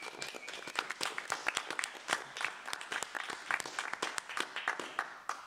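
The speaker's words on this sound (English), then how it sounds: "Big round of applause for all of our comedians tonight." A comedy show audience applauds the comedians, a fairly quiet but lively round of clapping with distinct individual claps sustained evenly throughout.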